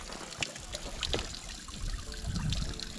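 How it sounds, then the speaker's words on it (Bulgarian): Water trickles and splashes steadily from a mountain fountain near the Ledeno Ezero shelter, close and continuous, with a fuller pouring gurgle toward the end. "Чешмата преди заслон Ледено езеро"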